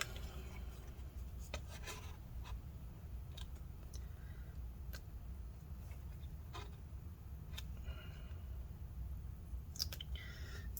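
Adhesive strips are peeled up during a battery replacement in a mid-2014 13-inch Retina MacBook Pro A1502 with a swollen battery, giving faint, scattered crackles and sticky ticks over a low steady hum.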